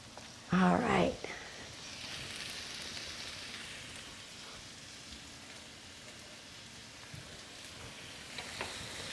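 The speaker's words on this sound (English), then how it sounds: "So now you just want to saute this" Carrots and scallions saute in a pan for pad thai, making a continuous soft hiss of sizzling with a short loud burst near the start.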